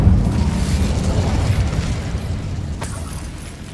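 A fire spell cast in Hogwarts Legacy produces a loud, sustained whooshing roar with heavy low rumble, fading slightly over a few seconds, with a brief crackling flare near the end.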